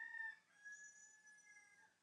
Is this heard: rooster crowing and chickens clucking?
yes